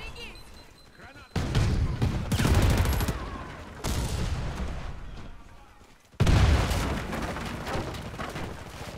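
Grenade blasts and gunfire in the Warface shooter, several heavy booming explosions with crackling bursts of shots between them, loud and close, over background game noise.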